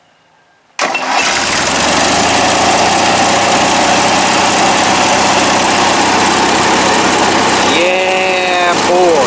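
A Briggs opposed twin engine swapped into a small tractor catches and starts abruptly, then runs loud and steady close by, with a voice briefly talking over it near the end.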